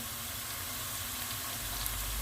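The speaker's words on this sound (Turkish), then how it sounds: "Biber salçam. Kavuruyorum. Çünkü renginin çıkmasını istiyorum." Homemade pepper paste sizzles steadily as it is sautéed in a hot pan, a dense, close frying hiss that carries on without a break and with no talk over it.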